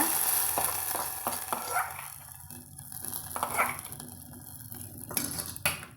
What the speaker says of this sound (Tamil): கருவேப்பிலையில் சேர்த்திட்டு நம்ம இந்த சாம்பாரில் இதை கொட்டிக்கலாங்க